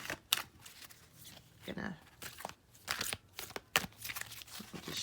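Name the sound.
shuffling a deck of fairy oracle cards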